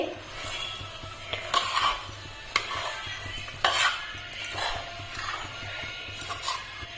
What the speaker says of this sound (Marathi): ते व्यवस्थित परतवून घेते